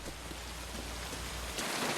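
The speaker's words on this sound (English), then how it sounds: "Gee, I'm sorry I didn't hear you in all this rain." Heavy rain pours down in a steady, dense hiss of drops striking surfaces, fairly soft overall with a slight shift in texture near the end, and no voices.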